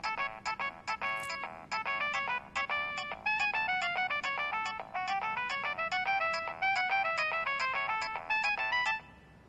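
A telephone plays a bright, melodic electronic ringtone, a repeating pattern of quick tones that runs steadily for about nine seconds before cutting off, clear and alone without speech.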